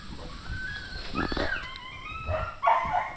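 A dog barks and yelps in a few short bursts, with whiny, tonal cries between them, heard from a moderate distance.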